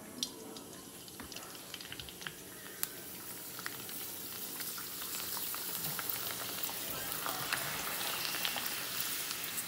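Papad frying in hot oil, giving a steady bright crackle and hiss like light rain, dotted with sharp pops and rising slightly toward the end, with no voices.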